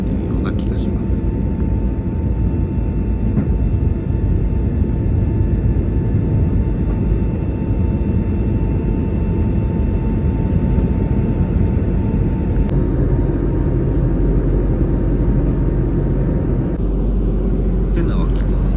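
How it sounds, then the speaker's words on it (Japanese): Turkish Airlines airplane cabin during takeoff on a business class flight, with a loud, steady engine roar and rumble filling the cabin throughout and a voice talking over it. "離陸しましたけれども"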